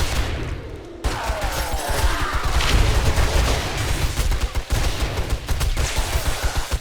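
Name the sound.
explosions in a video game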